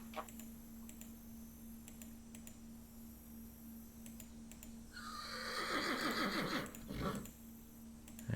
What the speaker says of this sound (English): I can hear those horses laughing at me already